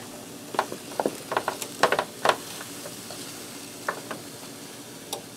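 A spoon scrapes chopped sausage, potato and pepper into the pan of a Ninja Combi cooker, giving a series of short, close clicks and scrapes in irregular bursts, with a few isolated taps afterward and no voices.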